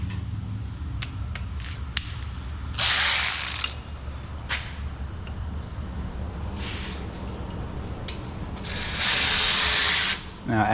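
Ratchet wrench loosening the brake caliper bolts on a MazdaSpeed3 in a home garage, with bursts of rapid clicking and louder stretches of ratcheting near the mic, under low background noise and occasional speech.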